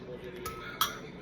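A utensil clinks twice against a pan while salmon fillet and garlic are stirred, two faint close metallic taps under low room noise.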